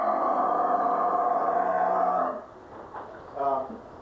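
A human voice imitates a dishwasher with a steady, buzzing hum held for about two seconds, then drops to a few faint, brief murmurs.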